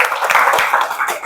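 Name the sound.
students clapping in classroom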